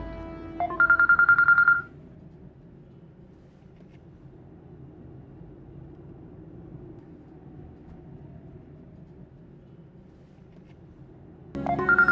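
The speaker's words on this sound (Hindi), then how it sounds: "क्यों बार बार कॉल कर रहे हो फरहान?" A mobile phone ringtone sounds in two bursts, one at the start and another near the end, as repeated calls come in, with a long quiet stretch of low background hum between them.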